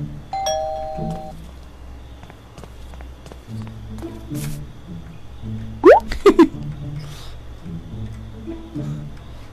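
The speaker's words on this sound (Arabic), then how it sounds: "تخيل ادق الجرس يفتح لي كذا بس" Doorbell rung at a house door in the video game Thief Simulator, a couple of quick bright chimes near the middle over a low steady game ambience, with faint footsteps and other small game noises.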